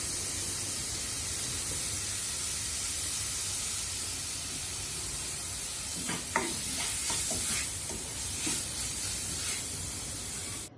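Tomatoes and other ingredients frying in a pan for tuna cauliflower curry: a constant hissing sizzle, joined midway by a cluster of close spoon scrapes and stirring clatter before settling back to the steady fry.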